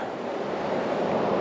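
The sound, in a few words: Storo waterfall rushing water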